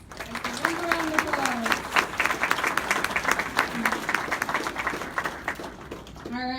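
An audience at a 2019 awards ceremony applauds its winners, a dense, steady round of clapping throughout with voices and cheers mixed in.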